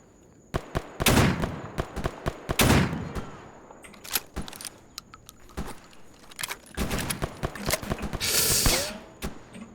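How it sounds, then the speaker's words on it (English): Automatic rifle fire in the shooter game Stalker Anomaly: scattered sharp gunshots and short rapid bursts, some close and loud, others more distant, with clattering in between and no talking. "someone out there has got an automatic weapon, like a rifle"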